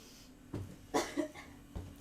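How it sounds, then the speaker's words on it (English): A single short cough indoors during a model Titanic build, with a few soft thumps and low noises around it, close and moderately loud with no talk. "Did you just cough on me?"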